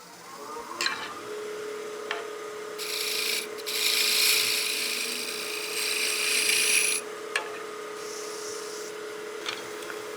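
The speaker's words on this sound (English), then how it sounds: "So we're just doing a nice bevel writing cut here with our 3/8 spindle gouge" A 3/8 spindle gouge makes a bevel-riding cut on spinning wood on a lathe, a sustained hissing rasp that swells for several seconds between quieter stretches of the turning hum and small ticks.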